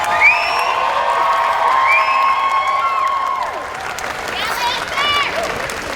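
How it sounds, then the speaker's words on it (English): An audience at a Colossalcon cosplay contest claps and cheers for the contestants, a steady roar of clapping with whoops and shouted voices over it. "So let's have a huge round of applause for all of our contestants."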